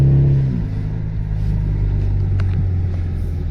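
A 4-cylinder turbocharged Camaro engine drones low and steady while driving, easing off briefly at the start, then settling into a constant rumble with no voices.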